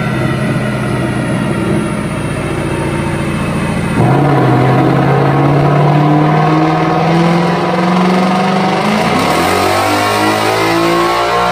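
A 2018-2019 Ford Mustang GT revs hard on a chassis dyno in neutral, its engine note climbing and holding a steady high-pitched drone before dropping back at the rev limiter near 7,500 rpm, loud and close throughout.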